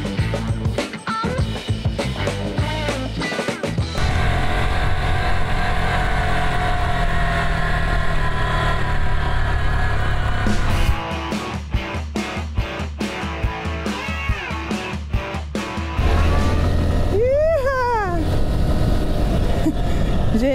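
A 2025 Honda Bros 160 motorcycle with ABS ridden on a dirt road, its engine droning steadily and rising and falling with the throttle, close to the rider, with someone talking over it.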